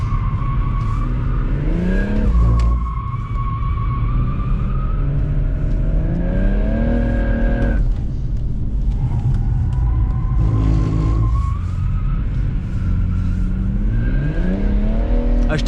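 A BMW M140i on a racetrack, its engine loud and close throughout, revving up and down through repeated rising and falling pitch sweeps between gear changes, with brief tire noise.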